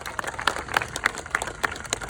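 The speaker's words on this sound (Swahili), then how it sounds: "Pigeni makofi jameni." Audience applause in an outdoor courtyard at the Africa Climate Summit: a brief patter of scattered hand claps, moderately close and fairly light.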